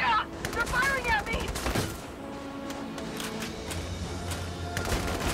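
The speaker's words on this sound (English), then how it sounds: "They're firing at me!" Enemy gunfire crackles in Valkyria Chronicles 4, repeated sharp shots and short bursts over a low rumble, moderately loud, with a voice speaking briefly at the start.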